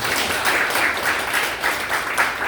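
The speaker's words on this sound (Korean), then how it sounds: "우리 힘차게 박수 한번 쳐요." Applause from a crowd of union members at a Korean labor rally and meeting, a steady, dense wash of clapping that holds at even loudness for a couple of seconds without talk.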